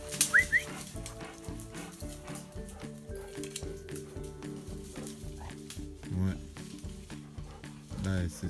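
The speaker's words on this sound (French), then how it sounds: "Un chien." A hunting dog whimpers and gives short yelps in bursts, close by, over a busy background of rustling and low rhythmic noise, with a person calling out now and then.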